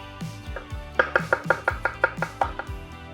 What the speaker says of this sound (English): depending on how crunchy you want it, is how thin or how thick you wanna cut your veggies here